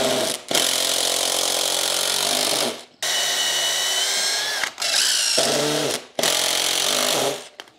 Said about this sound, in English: So let's rock on and screw all this together.